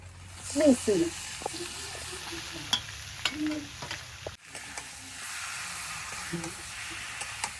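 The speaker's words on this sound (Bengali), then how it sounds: "কয়টা জিরা দিয়ে দিলাম। এই দেখো সোমবার আইছে, এখন বাগার দিয়ে দেই।" Hot cumin tempering poured onto village-style broiler chicken curry with taro, giving a sizzle and stirring clatter with a burst of sizzle near the start, then a softer steady hiss. A voice talks over it briefly.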